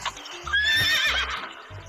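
A horse gives a loud, long whinny over rhythmic clip-clop hoofbeats of a fast gallop, close and clear, with no speech.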